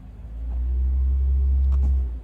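A Mercedes-EQS electric car's deep synthetic acceleration sound in its Vivid Flux mode swells and holds as the car accelerates, a loud low drone with a faint higher tone riding above.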